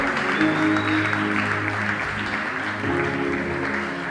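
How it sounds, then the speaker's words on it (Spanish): A church congregation at an evangelical service claps and cheers steadily for several seconds, a dense wash of applause under sustained music-like tones. "Si va a aplaudir, apláudele a Dios."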